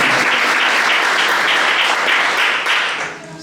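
A church congregation applauds in a dense, sustained burst of many hands clapping, loud and close, then tapers off toward the end.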